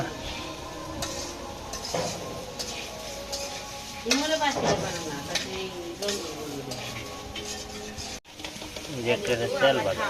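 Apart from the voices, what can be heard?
rice being fried and stirred in a pan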